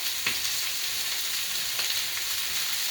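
Ribs frying in a pan, a loud, steady hiss and crackle of sizzling fat with a few sharper spits and pops as the meat is turned, continuous and close.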